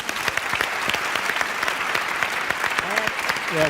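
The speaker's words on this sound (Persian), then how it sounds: "دارن تو رو تشویق میکنن" A gathering of people applauds for a disabled boy who has memorized the whole Quran, with dense steady clapping running throughout and a voice briefly rising near the end.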